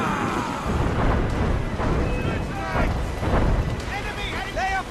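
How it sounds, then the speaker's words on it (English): Ship cannons in the naval combat of Assassin's Creed Rogue boom repeatedly amid battle din, with heavy low rumbles and bursts, while voices shout over the noise. "Man the cannons!"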